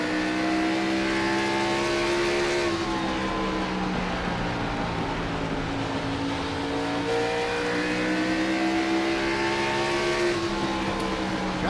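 Stock cars race around the Bristol Motor Speedway short track, engines roaring loud and continuous with steady pitch sweeps as cars drive off the corners and jostle for position.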